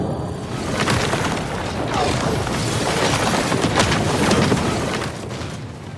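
Bomb explosion in a crime action film: a dense, sustained roar of blast and debris, with crashing and rumbling that holds steady throughout and no voices.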